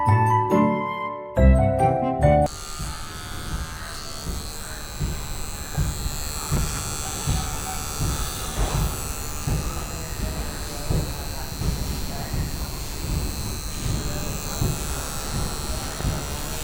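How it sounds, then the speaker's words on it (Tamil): An electric pet trimmer buzzes steadily close up while clipping a Shih Tzu's coat during grooming. A few clinking taps come first, then the continuous whirr runs on as a person talks over it. "ஸோ இந்த ட்ரிம்மரும் இந்த ஹெட்டும் வந்து பர்ஃபெக்டாக ஒர்க் ஆகுது."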